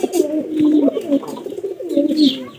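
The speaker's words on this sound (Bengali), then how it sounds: "খাঁচার মধ্যে যে কবুতরটা আছে" A caged pigeon coos close by in soft, rolling, throaty phrases that rise and fall, with a brief higher note near the end.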